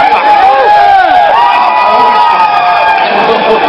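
A loud crowd roars and cheers continuously, with shouts and whoops rising above the din throughout.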